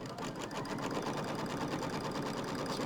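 An embroidery machine stitches out a Halloween design, its needle running in a fast, even, continuous rhythm at close range with no voices over it.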